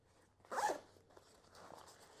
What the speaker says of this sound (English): Again, these nice double zippers here. Unzip that, has a really smooth action.